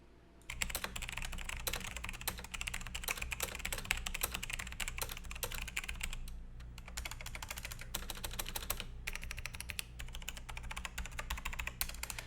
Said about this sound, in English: Here's a quick sound test of the Romer-G switch.